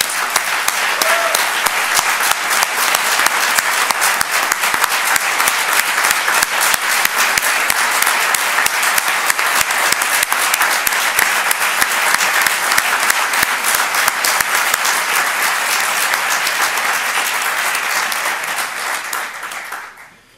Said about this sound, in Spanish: Hay que aplaudir a Adelardo,